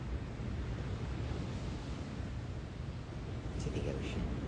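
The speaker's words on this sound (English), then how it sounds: "to the ocean, which hopefully you can hear too" Ocean waves wash steadily in the background at a calm seaside spot, a broad continuous rush mixed with breeze and wind buffeting the microphone, fairly faint and without distinct breaks.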